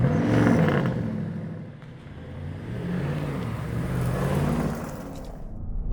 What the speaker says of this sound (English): you get such a pronounced V8 symphony, not just coming from the exhaust, but directly from the engine area